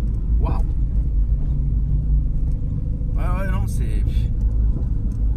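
A Renault Sport car on a race circuit rumbles with a loud, steady engine drone, with a brief rising whine partway through and voices talking over it.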